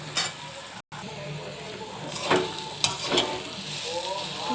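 Vegetarian chow mein with turmeric fries in a pan, a steady close sizzle broken by scraping stirs and a few sharp clinks, with no talk.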